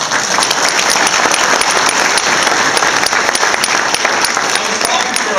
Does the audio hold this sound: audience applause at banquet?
yes